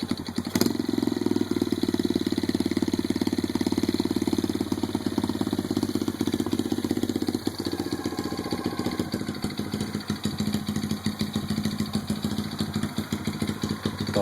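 Kawasaki KLX110 dirt bike fitted with an aftermarket exhaust, its small engine running steadily close by, a loud, continuous buzzing drone with a rapid pulsing beat and a slight change in tone partway through.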